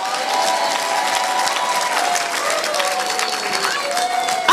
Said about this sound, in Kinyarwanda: Komera Imana amashyi uvuge amen.